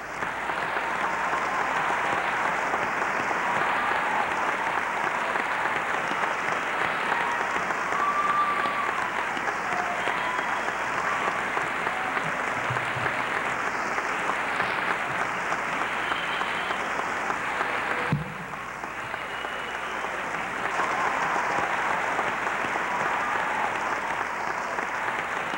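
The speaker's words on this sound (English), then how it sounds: "Please help me give our graduates a round of applause" Sustained applause for graduates at a 1994 nursing college commencement, a large audience clapping steadily and evenly for the full stretch with a slight dip near the end, no voices over it.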